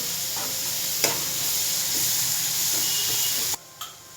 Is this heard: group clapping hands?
no